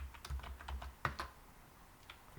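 A computer keyboard is typed on for a short burst, a handful of quiet, uneven key clicks with one slightly louder tap partway through, like a command being entered, with no talking.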